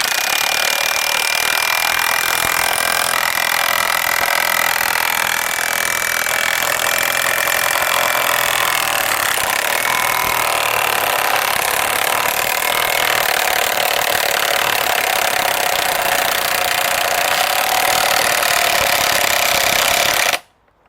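A Milwaukee M18 power tool on a Forge battery driving long screws into wood, a loud, continuous high-pitched whine and grinding for about twenty seconds before stopping abruptly.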